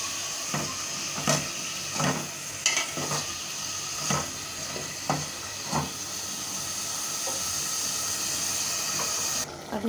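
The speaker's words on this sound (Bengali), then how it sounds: "নোনা ইলিশটা কষানো হয়ে গেছে, আলুটা দিয়ে দিলাম, একটু গ্যাসটা বাড়িয়ে নিলাম।" Potatoes sizzle in a pan with salted hilsa fish over raised gas, a steady close hiss broken by repeated sharp stirring scrapes, and no one speaks.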